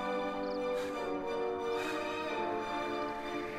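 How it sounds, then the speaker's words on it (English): A creature cry from the PS2 game Dragon Quest VIII: Journey of the Cursed King, the call of an Argon lizard, sounds as a loud, sustained tonal wail layered over game music, without any talking. "Did you hear that? It's the cry of an Argon lizard."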